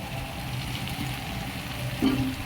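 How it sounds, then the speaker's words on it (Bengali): Potatoes and meat frying together in a pan, a steady close sizzle with soft stirring scrapes and a brief clink near the end, no talking. "আলুটা দিয়ে মাংসের সাথে এখন আর একটু ভালোভাবে কষিয়ে নিতে হবে"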